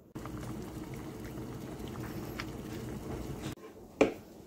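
Water boils steadily on a stove to heat a Canadian military MRE pouch, a constant bubbling hiss that cuts off abruptly and is followed by a single sharp click.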